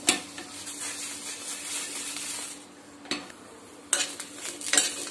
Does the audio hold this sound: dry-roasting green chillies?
yes